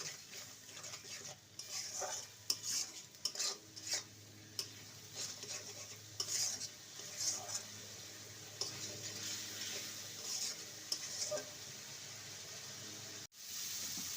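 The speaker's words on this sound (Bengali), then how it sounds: "সমস্ত মশলাকে ভালো মতো কষিয়ে নেব" Spices being stirred and sautéed in a pan for papaya and potato curry, faint sizzling broken by repeated scraping and clinking spatula strokes against the pan, close and steady.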